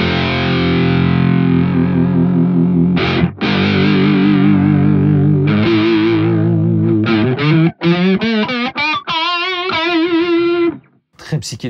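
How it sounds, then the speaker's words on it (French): An electric guitar played through a FAT BLOB amp simulator with a chorus/flanger effect gives sustained, swirling, wavering chords and a few short riffs, loud and close, with brief gaps between phrases. "ça sonne plus comme un chorus qu'un flanger, mais c'est un peu un mélange des deux."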